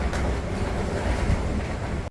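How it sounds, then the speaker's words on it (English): Strong wind by the sea on a shaking pier buffets the microphone in a constant roar, with surf-like rushing underneath, loud and unbroken, no voices, in Norway. "It's so windy out there."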